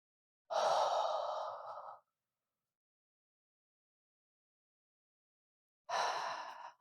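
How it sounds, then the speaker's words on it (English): Two deep, audible breaths taken while seated in yoga staff pose: a long, loud exhale lasting about a second and a half, a pause of silence, then a shorter second breath. "Take a couple of breaths here."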